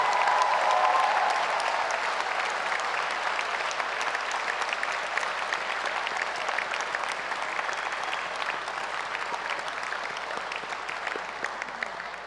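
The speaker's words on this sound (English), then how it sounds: "let's honor them now with the loudest, most joyous applause we can give" Audience applause at a university graduation ceremony in Edinburgh, a dense sustained wash of many hands clapping that stays loud throughout and eases slightly toward the end, with no speech over it.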